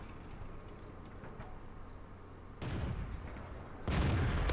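Two tank gun blasts in World of Tanks, fired from a derp gun loaded with HE rounds: a heavy boom, then a second louder one a moment later, over a steady low game-engine rumble.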